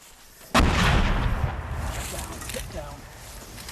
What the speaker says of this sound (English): The shells begin to land all around us, only metres away.